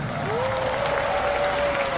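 A concert crowd at a band's 20th-anniversary show applauds in a steady wash of clapping, with a thin sustained whistle-like tone riding over the noise.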